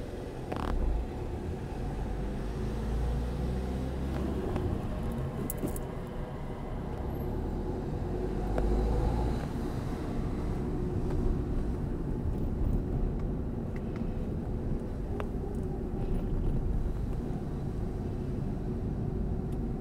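Car interior during a driving lesson with a steady low engine and road rumble as the car pulls away and keeps moving, constant and fairly loud throughout with no talk.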